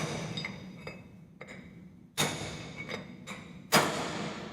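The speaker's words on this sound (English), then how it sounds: "I'll continue to tap and walk around until the bearing pops out." Hammer blows on a brass punch driving a wheel bearing race out of its hub, a series of sharp metallic taps at irregular intervals, with two louder strikes standing out, close and alone.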